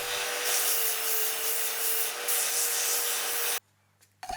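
A spindle sander shaping a wooden miter saw zero clearance insert, a loud continuous rushing grind that stops abruptly near the end, leaving a brief quiet and a faint knock.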